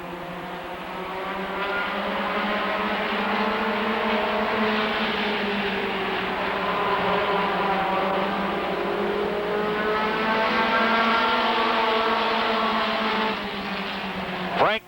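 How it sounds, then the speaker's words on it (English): Race cars at Rockford Speedway roar away after the green flag, a loud, sustained multi-engine drone with rising and falling pitch as the pack accelerates and passes, with a commentator's voice faintly under the engines. "Green flag, we're racing."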